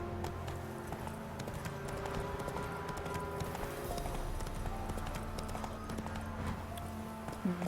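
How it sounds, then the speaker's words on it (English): Horse hooves clip-clop at a quick, rhythmic gallop in The Witcher 3, steady and close over a low game soundscape, with no talk. "Can we ride this horse even though it's not ours?"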